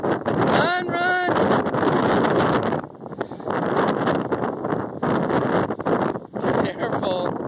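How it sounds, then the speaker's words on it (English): Gusty wind roars and buffets the microphone steadily on a steep hillside, with a brief high voice-like whine near the start and again at the end. "It's windy. It's a windy Memorial Day weekend."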